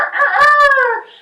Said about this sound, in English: The cock crows 3 times.